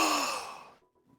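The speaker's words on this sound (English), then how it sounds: "I hear a gasp." A single sharp intake of breath, a short airy gasp that fades quickly into near silence, close and alone.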